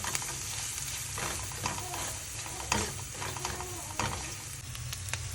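Spiced masala for paneer butter masala, with garam masala powder and salt, is sautéed in a pan, giving a steady sizzle with repeated spatula scrapes and stirring knocks at close range.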